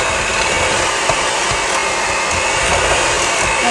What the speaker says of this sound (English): we're going to go ahead and beat the butter and the cream cheese until fluffy. So it could be a little noisy for you.